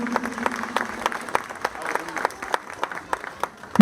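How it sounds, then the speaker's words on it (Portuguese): A church congregation claps in praise at a worship service, the applause loose and uneven with scattered sharp claps and a steady murmur beneath, close and moderately loud, ending in a sudden louder burst. "aplaudindo a Deus pela sua maravilha"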